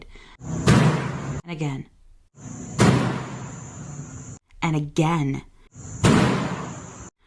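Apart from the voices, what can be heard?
body slamming against a door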